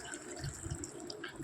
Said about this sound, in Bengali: এর মধ্যে আমি দিয়ে দেবো একটু গরম জল।